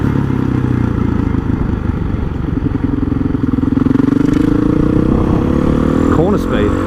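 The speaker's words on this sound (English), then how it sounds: "it's a bloody single cylinder, you know, dirt bike" Honda CRF 450 single-cylinder dirt bike being ridden, its engine a loud, steady thrum that builds in pitch and then drops, with a rider's voice faintly mixed in.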